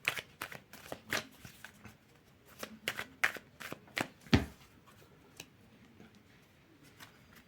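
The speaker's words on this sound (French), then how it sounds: "Aujourd'hui, je vais vous faire les cartes de la main." Cards are shuffled by hand for a fortune-telling card reading in a quiet room, with an irregular run of sharp, snappy riffles and flicks, one especially loud slap near the middle, then softer handling.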